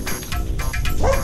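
Small puppies give repeated yips and short barks close by during outdoor play with a ball, the sounds rising and falling over steady background noise.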